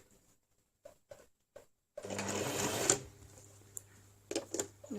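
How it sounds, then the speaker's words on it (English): A sewing machine runs in a short close burst stitching a zippered fabric pencil case, preceded by a few light clicks and followed by brief further stitching taps. "So stitch a few forward and a few backwards."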